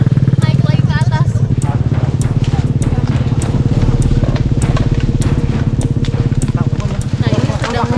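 A heavy 200–300 kg motorcycle engine labors loudly and close on a steep, rough village road, a steady pulsing rumble throughout with voices talking over it.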